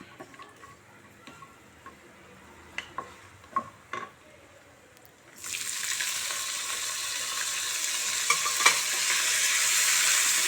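Paneer stirred and fried in ghee in a pan for a Navaratan pulao: a few sharp spoon clicks and scrapes, then a steady, bright sizzle that builds and holds to the end, with no voices.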